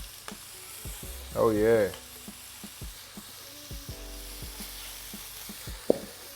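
Shrimp cooking in a pan give a quiet, steady sizzle with light crackles, while someone briefly speaks a short exclamation over it.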